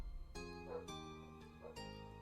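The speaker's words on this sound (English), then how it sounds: "I'm so sorry if you can hear this goddamn dog barking outside my house." A dog barks outside a house, giving a few sharp yips and barks spaced across a couple of seconds over a low steady hum, faint and heard from inside at a distance.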